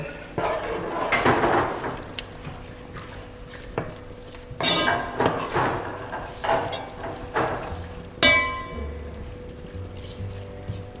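A spoon scrapes and clinks against a metal pot while red stew with curry is stirred, with soft sloshing and irregular knocks of moderate loudness and no voices.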